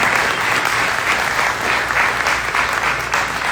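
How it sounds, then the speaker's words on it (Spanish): A congregation at a church ministry anniversary celebration breaks into loud, continuous applause, a thick wash of many hands clapping close by without pause. "Un aplauso para ella."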